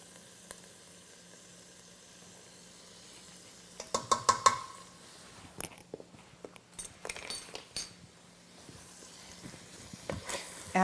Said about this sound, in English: I want to mix that chili powder in so that it coats all of the beef and all the other ingredients